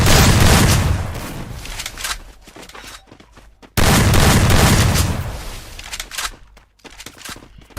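Loud bursts of automatic gunfire in a mobile battle royale game during an online tournament match, two long rapid volleys that each trail off into scattered shots, close and dominant.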